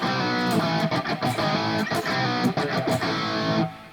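Distorted electric guitar playing a riff, with choppy, syncopated chords and short muted stabs, loud and close with no talking.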